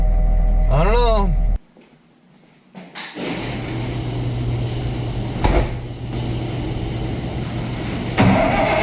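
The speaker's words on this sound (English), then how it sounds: "Get this skid steer going." A skid steer's engine cranks and starts in the cold while a salter is fitted. A brief whine of the starter leads into a steady, close, loud idle that keeps running. Speech is heard near the start.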